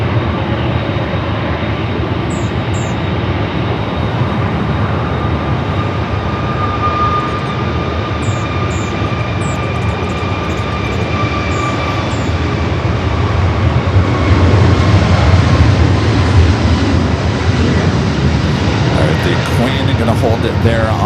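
A JetBlue Airbus A321 jet arriving from JFK taxis at LAX, its steady engine whine and broadband rumble sustained throughout at close range, swelling slightly near the end, with radio chatter and voices heard over it.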